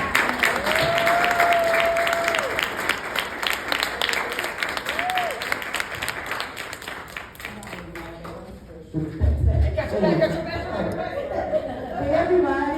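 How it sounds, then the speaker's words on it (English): Warm audience applause for a grief coach at a World Mental Health Day event, a loud sustained clapping crowd with chatter that fades out, then a speaker begins addressing the room. "So we can give a warm round of applause for Ms."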